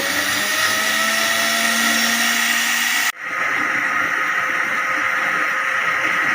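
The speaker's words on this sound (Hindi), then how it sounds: "देखें, अभी सही तरह ब्लेंड होना शुरू हो गया है।" A kitchen blender whirs steadily while blending tomatoes for chutney, then cuts off briefly and restarts with a loud, continuous motor roar.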